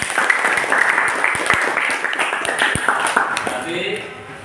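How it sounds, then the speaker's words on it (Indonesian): Short burst of classroom applause as students clap together for their teacher's praise of their scores, moderately close, with voices chattering over the clapping before it tapers off. "tepuk tangan untuk kita semuanya"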